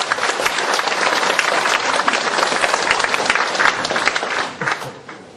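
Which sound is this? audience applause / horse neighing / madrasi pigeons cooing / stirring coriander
audience applause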